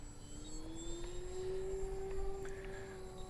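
An Ugly Stik radio-controlled model airplane flies slowly into the wind, its motor giving a steady droning whine that holds a sustained pitch with slight shifts, heard from a moderate distance over a low wind rumble, with no talking.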